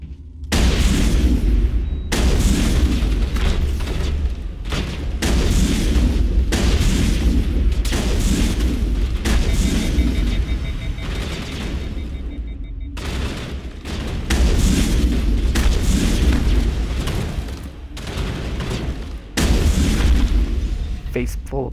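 Heavy shotgun buckshot blasts in the video game Mass Effect, repeated booming shots with brief gaps, loud and close, amid continuous combat noise.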